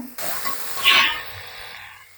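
Taki fish sizzles in a pan over high heat, for a mashed-fish bhorta, with a continuous hissing fry that swells briefly and then settles, close and alone.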